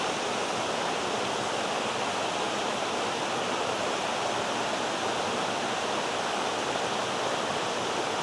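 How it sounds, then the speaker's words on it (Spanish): A river rushes hard along a walking route near a railing, a dense, steady roar of water that stays loud and unbroken throughout. "Y ahí podéis ver con la fuerza que empieza a bajar el río."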